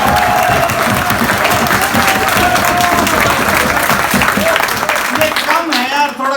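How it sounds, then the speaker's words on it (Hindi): A college audience at a comedy show breaks into loud, sustained applause, dense clapping with crowd noise and voices mixed in, fading slightly near the end. "तुम ऐसा करो, जोरदार तालियों की निकाल के"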